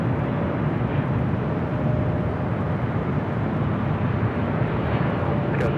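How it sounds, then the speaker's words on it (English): A Philippine Airlines Boeing 777-300ER arrives from Manila at Los Angeles airport, a steady, loud, broadband jet roar that holds at a constant level throughout, with no talking. "Philippine, the 777-300ER coming in from Manila"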